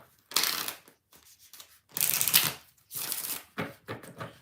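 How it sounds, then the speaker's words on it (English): Several bursts of tarot cards being shuffled, crisp riffling rattles in short separate runs with quiet gaps between, close up and with no talking. "2 more shuffles."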